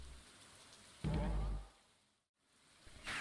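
Steady patter of rain in the video game Stardew Valley, a soft hiss that swells loudly for half a second, fades to near silence, then returns.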